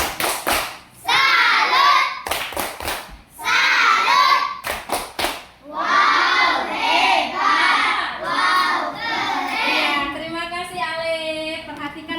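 A class of Indonesian schoolchildren performs a loud rhythmic clapping chant, their voices chanting together between bursts of claps and thumps, with a teacher's voice and classroom chatter mixed in.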